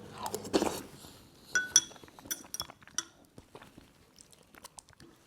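Several crisp crunches and clinks of someone biting into and chewing fresh ginger as a first bite, close up, with brief sharp transients spread over the clip and no talk.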